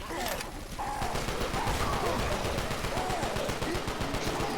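Sustained gunfire from a video game, aimed at the Tank in Left 4 Dead, a rapid dense stream of shots running loud and continuous from start to finish with no talk.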